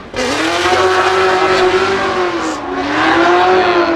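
Drift cars launching at the start of a Formula Drift Pro 2 battle in St. Louis, a loud sustained engine roar that climbs in pitch, dips briefly and then rises again, with tire noise and no voices.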